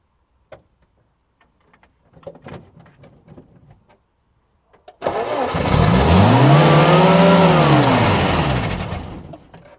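Car engine cranking and firing up in minus 14 degree cold after a few faint clicks and handling noises, then a loud rev that rises and falls once before settling, close to the microphone with no talk.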